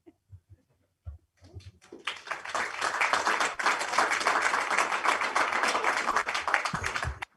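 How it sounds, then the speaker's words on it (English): An audience bursts into sustained applause after a $10,000 check presentation, a few scattered claps at first, then dense loud clapping filling the room for about five seconds before it stops abruptly. "That deserves some applause"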